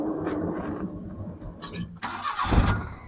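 A Maruti Omni van's engine cranks and catches, rising into a louder burst of starting noise near the end, with a general rumble of running and surroundings before it.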